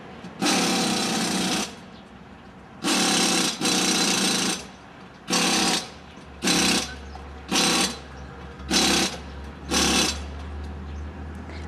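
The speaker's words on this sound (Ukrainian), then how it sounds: "Насправді звук від пневмогайковерту ось такий." A pneumatic impact wrench at a car service station rattles in a series of sharp bursts, first longer ones and then shorter, evenly spaced ones, over a low hum.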